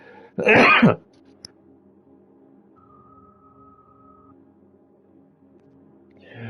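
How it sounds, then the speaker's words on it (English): A single sharp cough bursts out close by near the start, followed by a quiet room with a faint electronic tone. "sometimes it feels like I'm going to cough up a lung"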